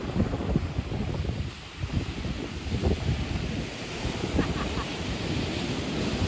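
Strong ocean surf at high tide on a beach in San Felipe, Zambales, a steady loud wash of breaking waves with wind buffeting the microphone throughout.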